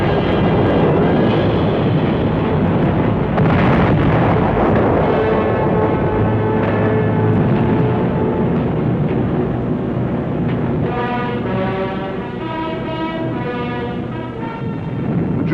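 A 1944 German V-1 pilotless jet flying bomb over England gives a loud, sustained droning roar with a steady tonal buzz that fills the whole stretch, with no talking.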